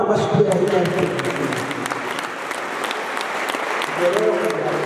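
Congregation applauding at a church thanksgiving gathering, a steady wash of clapping throughout with a voice speaking over it at the start and again near the end.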